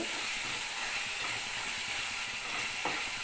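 Ginger garlic paste frying in a pan for mushroom curry gives a steady, loud, hissing sizzle throughout, with no talking.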